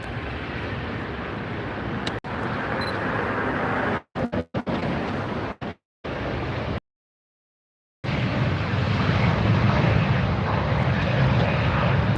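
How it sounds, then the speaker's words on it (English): A Hawaiian Airlines jet takes off at LAX airport, its engines giving a loud, steady roar close by, broken by a few brief dropouts and a short gap of silence. "Beautiful view of that Hawaiian Airlines jet taking off here at LAX."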